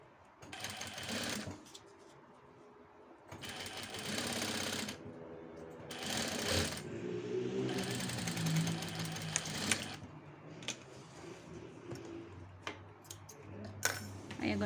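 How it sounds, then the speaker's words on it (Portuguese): Sewing machine stitching fabric and lining together for a small Easter zippered pouch; several bursts of rapid mechanical whirring, some longer runs, with light clicks and handling in the quiet gaps, fairly faint overall. "Aí, você vai passar uma costurinha para prender todos esses materiais."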